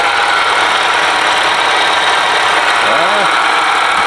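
A loud, idling Audi S4 engine runs with a constant harsh whirring and rattling whine from a failing supercharger pulley bearing, steady throughout, with a person's voice briefly audible.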